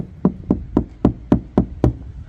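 Knuckle knocks on a sheet-metal body panel of a VW Passat B6, seven evenly spaced hollow raps in a steady rhythm, close and fairly loud, with no voice over them.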